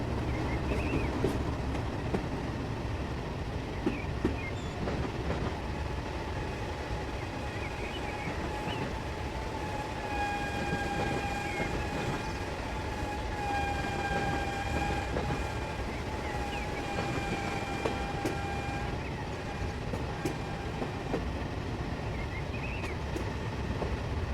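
Steady rumble of a train rolling along in Train Simulator 2021, with a rhythmic clatter and a faint tonal whine riding on top.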